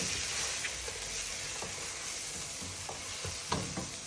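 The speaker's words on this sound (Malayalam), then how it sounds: "കുറച്ചും കൂടി വെളിച്ചെണ്ണ ഒന്ന് ഒഴിച്ച്, പിന്നെ നല്ല ഇങ്ങനെ ചെറുങ്ങനെ കത്തിച്ച് അതിങ്ങനെ വഴറ്റി എടുക്കുക" Food sautés gently in coconut oil over a low flame in a home kitchen, a soft steady sizzle with occasional light stirring scrapes and pops, quiet and close.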